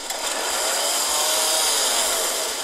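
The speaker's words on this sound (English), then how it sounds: "Chainsaw!" A chainsaw in Left 4 Dead 2 roars continuously at full throttle, loud, close and harsh, with no voices over it.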